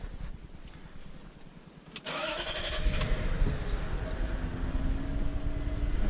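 A Range Rover L322 with a 4.4 V8 petrol engine is cranked in a workshop; the starter turns briefly, the engine fires at about two seconds, then settles into a steady, close idle.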